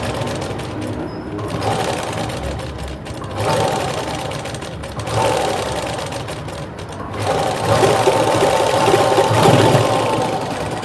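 A sewing machine stitching a blouse runs steadily at close range, its fast mechanical whir rising and falling in a few long passes.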